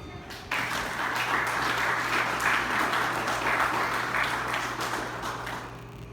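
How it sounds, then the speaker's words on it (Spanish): Applause from an audience at a Spanish-language church history lecture fills the room, a dense, steady wash of clapping that starts abruptly and holds throughout over a low, constant hum. "¿No merece un aplauso a eso?"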